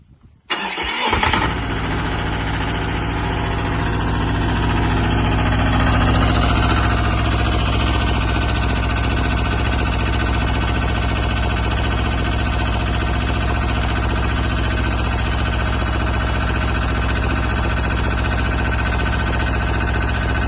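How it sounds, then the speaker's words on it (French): A diesel engine on an HT15 mini excavator cranks and catches after an oil change, then settles into a loud, steady, close idle with a constant vibrating hum for the rest of the clip, with no talking. "une fois qu'on a fait tourner notre moteur, après la vidange"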